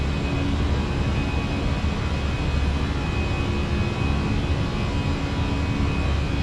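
Airbus A320 engines at climb thrust in a flight simulator, a continuous broadband roar that stays even and loud throughout, no one speaking.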